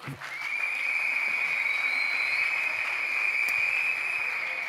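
Steady audience applause at a Leiden youth sports awards ceremony honouring junior champions, starting abruptly and holding as a dense, even wash of clapping that lasts several seconds.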